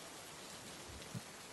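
Steady hiss of rain falling in the PK XD video game, an unbroken even patter at low level with a faint soft knock near the end and no speech.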